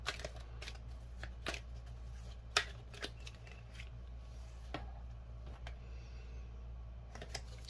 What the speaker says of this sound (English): Just throw me a card out on the table if you will